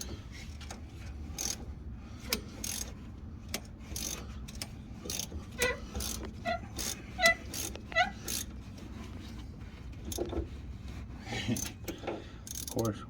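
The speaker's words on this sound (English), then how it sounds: "Gotta pop the hood and remove the nut that's holding it from the top." A ratchet clicks in quiet, irregular bursts while it removes the top shock nut under the hood of an SVT Lightning pickup. Metallic clinks and handling noises come in between, with no speech.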